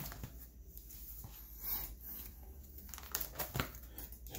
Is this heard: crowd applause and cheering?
no